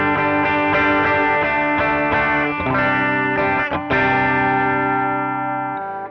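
A Fender Player Acoustasonic Telecaster played through a PA with an amp-like preamp tone rings out in steady strummed chords, then sustained ringing chords that fade toward the end, loud and with no voices.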